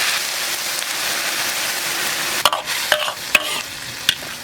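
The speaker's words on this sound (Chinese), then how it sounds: "炒一层下入洋芋条， 加点盐、" Potato strips stir-fried in a pan with pork, with a steady sizzle and frying hiss throughout and several sharp clinks of a spatula against the pan near the end.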